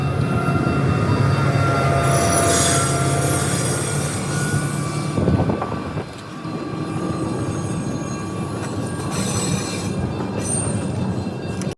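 A train rolls along a street-running railway track in New Zealand, its loud wheels rumbling and squealing on the rails as it passes close by, with no voices.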